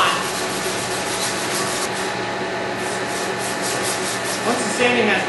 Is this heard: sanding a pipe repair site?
yes